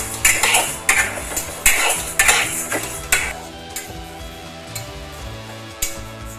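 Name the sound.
dry roasting mung dal in a wok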